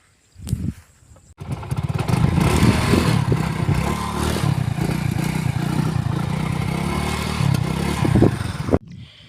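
Motorcycle starting up after a brief sputter, then riding with a loud, steady engine drone and clattering rattle close by, briefly rising near the end before cutting off.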